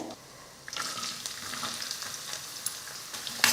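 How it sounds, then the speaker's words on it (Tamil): Onions sizzle and crackle in hot oil nearby, with occasional scraping and stirring sounds from a utensil in the pan. "வெங்காயம் நல்லா வதங்கட்டும்."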